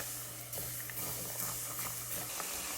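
Macaroni kurkure deep fries in hot oil with a soft, steady, dense sizzling hiss, faint and continuous, with a low hum underneath.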